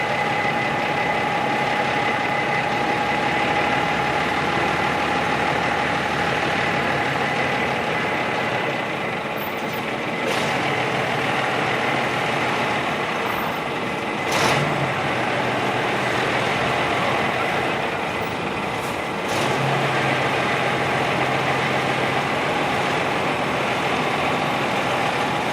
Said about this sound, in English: Finally clear of all obstacles, the Seddon makes its way towards the exit.